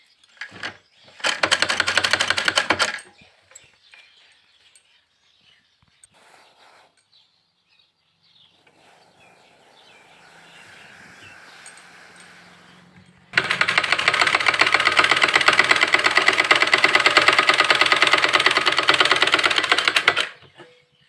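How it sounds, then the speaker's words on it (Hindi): Sewing machine stitching through folded fabric, running in two loud sustained bursts, a short one near the start and a long steady run at the end, with quieter handling sounds and a faint hum between them. "इसको मोड़ के सिल रही हूँ।"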